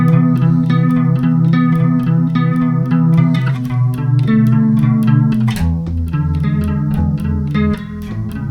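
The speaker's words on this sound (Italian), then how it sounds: "preferisco usare un chorus, che suona più o meno così" An electric bass plays sustained notes and chords with a shimmering, wavering chorus effect, loud and close, with no voices.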